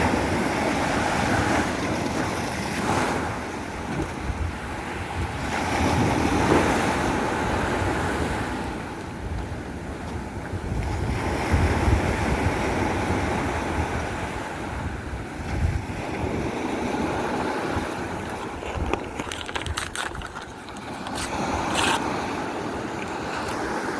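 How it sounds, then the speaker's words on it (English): Strong wind buffets the microphone on a seashore, with steady roaring gusts and surf blended into a continuous broadband rush that swells and eases over about twenty-four seconds, no talking. "Windy, so that helps."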